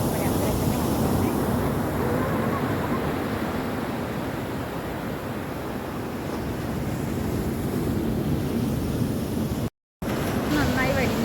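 Steady surf rolls in at Alappuzha beach on a rainy-season morning, a dense washing roar with wind noise, broken by a brief dropout near the end.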